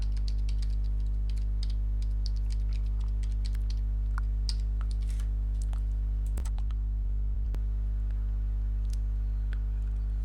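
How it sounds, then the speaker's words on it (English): Light, quick keystrokes on a computer keyboard come in uneven bursts while an email address is entered, sitting above a loud steady low electrical hum. "I will type my email."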